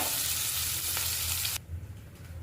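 Loud, dense sizzling of a garlic and dried red chilli tempering in hot oil fills most of the clip, then cuts off abruptly, leaving quieter low kitchen noise.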